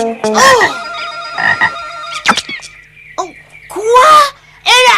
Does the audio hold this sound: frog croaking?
yes